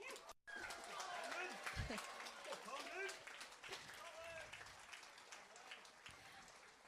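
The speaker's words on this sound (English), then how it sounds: "Let's give them one more round of applause." Audience applause for the 2022 Presidential Education Award recipients at a school promotion ceremony: a steady wash of clapping across the whole clip, with voices and chirping birds mixed in.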